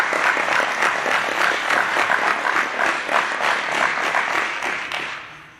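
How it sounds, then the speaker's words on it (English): Parents receive a sustained round of applause from a crowd at a high school football signing day, steady dense clapping for several seconds before it tapers off. "Y'all give a round of applause to all the parents first."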